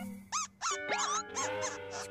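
A baby squirrel monkey gives a quick series of high, sharp squeaks in an animated cartoon, five or six chirping calls close and clear with brief gaps.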